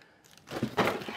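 A bubble envelope holding an NEC keyboard crinkles and crackles as it is handled during unpacking, a short close rustle that starts softly and grows louder near the end.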